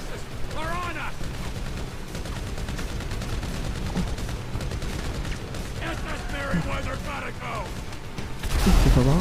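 Rapid bursts of gunfire in Grand Theft Auto V crackle steadily throughout, with a voice talking over the action and a louder blast near the end.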